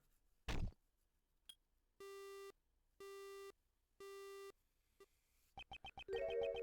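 A single sharp, heavy thud of a man being struck on the head during a phone call in an Ace Attorney game, followed by three evenly spaced electronic busy-signal tones and a quick burst of beeps.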